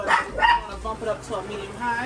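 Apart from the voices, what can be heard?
small dog barking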